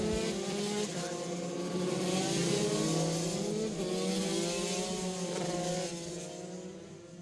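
Senior Rok shifter karts race in a heat at Ocala, Florida, their engines whining and rising in pitch in overlapping waves as the pack passes near and loud, with a brief voice underneath.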